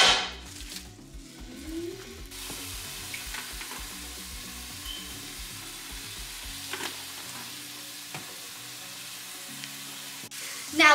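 Two burger patties fry in a pan with a steady, broad sizzle and crackle, close and moderately loud. There is some scraping and handling at the start and a clunk near the end.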